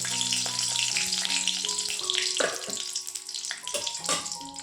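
Panch phoron five-spice seeds sizzle and crackle in hot oil at close range, with bright bursts of spattering and clinks of a utensil against the pan over the whole short stretch.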